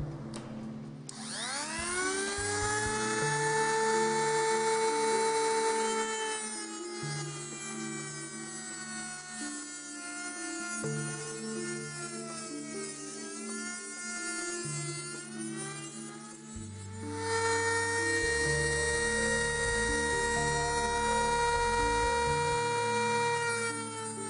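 A power tool whirs steadily as it cuts a piece roughly to an oversized shape, with its pitch rising at the start and shifting as the cut progresses. The sound is loud and continuous, with no talking.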